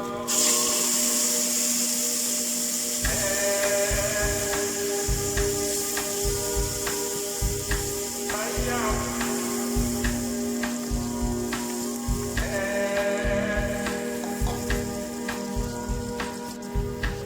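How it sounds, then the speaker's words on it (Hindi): Onion, tomato and green chili paste with ginger garlic paste and spices frying in a pan for stuffed eggplant, a steady loud sizzle throughout with repeated scraping and stirring clicks from a utensil. "अब इन मसालों को अच्छे से भुनना है"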